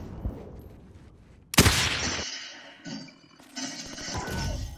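Gunfire in Call of Duty: Modern Warfare: a loud burst of shots, then a few further bursts and ringing after-sounds over low game background, no talking.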